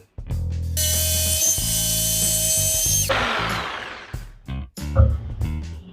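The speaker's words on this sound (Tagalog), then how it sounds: "ikakat na natin to gamit yung jigsaw" A jigsaw cutting wood whines loudly and steadily for several seconds, then cuts out, followed by scattered clunks and knocks.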